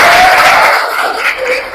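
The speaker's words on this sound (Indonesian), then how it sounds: "tepuk tangan untuk kita" A classroom of Indonesian schoolchildren claps together, a brief, loud, dense burst of applause mixed with young voices that thins out slightly toward the end.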